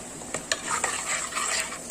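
Ground curry paste for a jackfruit-seed and drumstick-leaf curry is poured into a pan and stirred, giving a steady close sizzle with soft scraping strokes and faint clinks.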